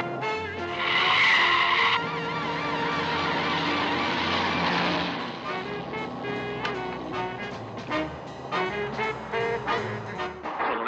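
Gangsters' cars tear through a street in a 1966 crime film, tires squealing in a long, loud skid that tapers off into engine roar and scattered traffic noise.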